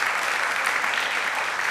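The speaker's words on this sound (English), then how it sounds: "Please another round of applause for them." Steady crowd applause at a movie premiere fills the whole stretch, dense and even, with no voices breaking through.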